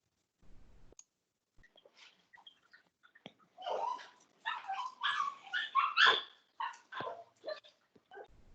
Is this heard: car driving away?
no